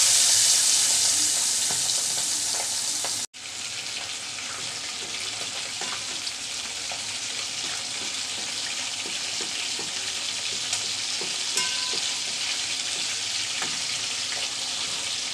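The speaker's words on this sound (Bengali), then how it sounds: "বাকি 2 পিসও ভেজে নিচ্ছি।" Pomfret fish pieces frying in hot oil give a steady, dense sizzle that runs throughout, with a brief gap early on and faint clinks scattered over the hiss.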